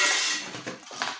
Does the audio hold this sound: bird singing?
no